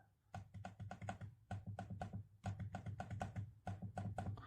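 Rapid typing close up on a Lenovo Legion 5 Pro laptop's full-size keyboard with 1.5 mm key travel, bursts of crisp key clicks in quick irregular runs with brief pauses between them, no voices.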